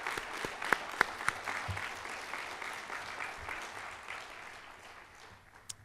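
Applause at a Hall of Fame induction ceremony for coaches opens with a few sharp, scattered claps, then swells into a soft, continuous patter from the crowd, fairly distant and quiet, with one last crisp clap near the end.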